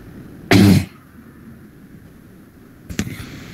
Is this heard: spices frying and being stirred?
no